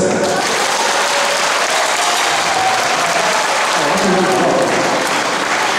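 Audience applause at a live concert, a dense continuous roar of clapping from a large crowd that fills the whole stretch, loud and unbroken.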